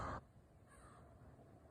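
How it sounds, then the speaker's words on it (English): A crow gives one short, faint caw at the very start, then only quiet outdoor background follows. "It's probably saying, yeah, it's cawing. Like caw, caw, caw."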